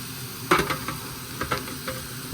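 Oiled pan with chunks of striped bass being added, a handful of sharp sizzling bursts as pieces hit the hot oil over a steady low frying hiss.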